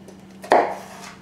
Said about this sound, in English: Then you cut it into strips about a 1/2 inch wide.